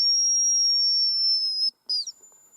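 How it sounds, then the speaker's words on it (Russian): A decoy whistle for hazel grouse hunting gives one long, thin, high steady tone, followed after a short gap by a brief falling trill, clear and close in quiet woods. "С каждым свистком все их больше и больше становится."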